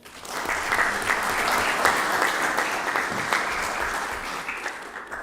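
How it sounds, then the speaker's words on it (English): Steady audience applause fills a municipal Board of Mayor and Aldermen meeting, dense clapping sustained for about five seconds before tapering slightly at the end. "Can y'all give them a round of applause?"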